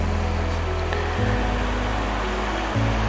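Ocean waves wash in the foreground of a shoreline as the tide goes out, giving a constant, even broadband roar with a faint low hum beneath it and no voices.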